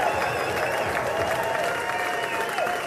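Sustained audience applause during a standing ovation, a dense, even roar of many hands clapping at a steady level with faint crowd murmur beneath, no clear speech.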